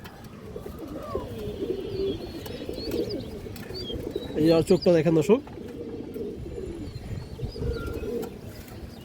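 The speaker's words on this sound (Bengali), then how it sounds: "এই যে দেখেন বুদাপেস্ট মাদি কবুতর" A female Budapest high flyer pigeon gives a short burst of throaty cooing close by, while someone talks before and after it.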